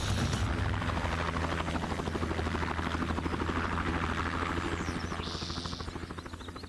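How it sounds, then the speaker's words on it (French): A helicopter at the site of a Fear Factor TV stunt sets up a loud, close, rapid thumping of rotor beats over a constant engine roar. The sound fades slightly toward the end. "Vous avez découvert en arrivant ici cet hélicoptère."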